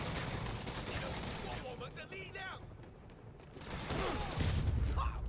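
Soldiers open fire in Marvel's Spider-Man, a dense, continuous rattle of gunfire layered with game effects and a player talking over the barrage.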